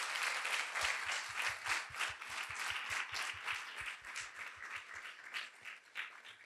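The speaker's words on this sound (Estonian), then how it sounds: "teeme talle ka aplausi." An audience at a conference session applauds, a bright steady patter of many hands with a faint rhythmic thump underneath, moderately distant and fading slightly toward the end.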